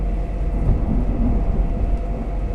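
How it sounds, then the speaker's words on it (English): A deep, continuous rumble of distant thunder during a storm fills the whole stretch, steady and loud, with no other sounds. "there's thunder and lightning happening"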